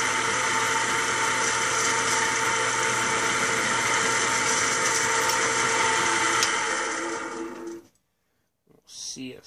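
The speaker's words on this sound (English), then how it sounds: "So we're going to drill that right now." A power drill drilling into a car body whines steadily at a high pitch for several seconds at close range, then winds down and stops, followed by a brief burst of noise.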